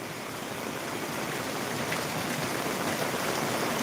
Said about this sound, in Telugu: ఇంత హెవీ రెయిన్ అయితే మనం ఫస్ట్ టైం చూస్తున్నాం